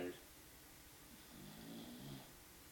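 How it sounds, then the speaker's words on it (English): An English bulldog snores while awake, a low rattling rasp that swells and fades across a couple of breaths, close and fairly faint in an otherwise quiet room. "He is snoring while he's awake."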